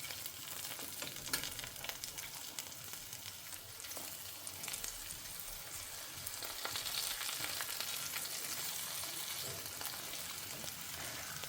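Lentils fry with a steady crackling sizzle in a pan and are stirred now and then. The sound is close and continuous with no talk.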